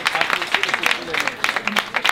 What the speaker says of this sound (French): Applaudissez M. Kadir.